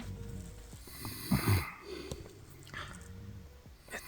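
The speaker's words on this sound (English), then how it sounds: "snoring has become unbearable" Snoring from a person sleeping in a tent at night while camping, heard as a few rough, rhythmic breaths that rise in a louder burst midway, then settle into quieter, steady snores.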